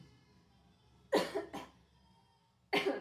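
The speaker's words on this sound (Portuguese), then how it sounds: "Essa tosse é por causa da lixozinha." Three harsh coughs close up, a quick pair followed by a single cough after a short pause, over a quiet background.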